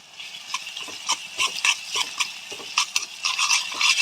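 Ginger garlic paste frying with browned onions in a pan, heard as a steady close sizzle broken by frequent scraping stirs and clicks of a spoon on the pan.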